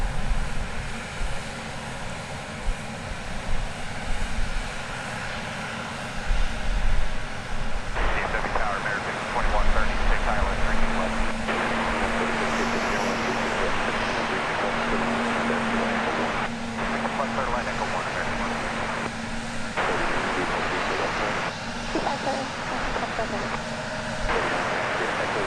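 A Finnair Airbus A350-900 jet at Dallas Fort Worth airport hums and roars steadily at moderate distance, with a sustained engine tone and some intermittent bursts, while people talk over it.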